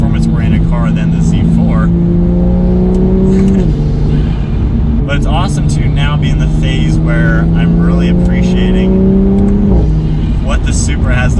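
A 2019-onward A90 Toyota Supra's engine drones loudly as it accelerates through the gears, turbo, induction and blow-off valve audible, pitch rising then dropping at each shift, with someone talking over it.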